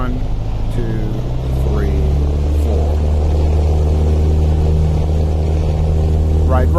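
A light aircraft engine in Microsoft Flight Simulator, running to full throttle for takeoff as a loud, steady low drone throughout while a person counts aloud over it.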